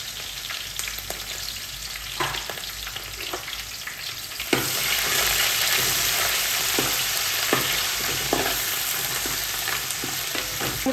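Green chillies and curry leaves sautéing in a pan for a tilapia curry, a loud crackling sizzle that jumps up sharply midway as they hit the oil, dotted with spatula taps and scrapes, no voices.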